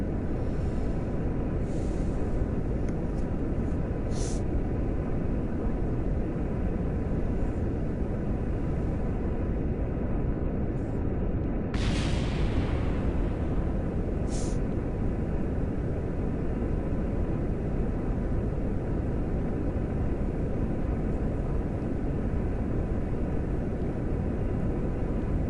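Rocket engine burning steadily in Kerbal Space Program, a constant loud broadband roar that holds through the whole stretch, with a couple of brief brighter bursts partway through.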